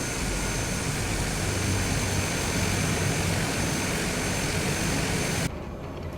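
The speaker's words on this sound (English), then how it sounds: "Let's go and taxi out to the runway and prepare to take off" Constant roar of an aircraft engine as the plane taxis to the runway in Microsoft Flight Simulator, a loud, unbroken drone that drops abruptly in level near the end.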